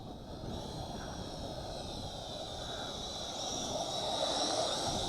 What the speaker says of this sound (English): I got a high-flying jet going over us here